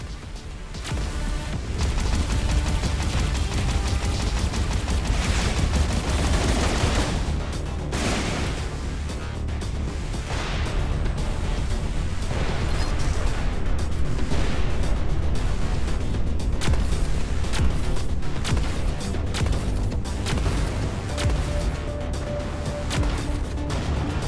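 Torpedoes and explosions in the space combat video game Everspace 2, a continuous loud, dense barrage of booms and crashes rolling on without pause for the whole stretch.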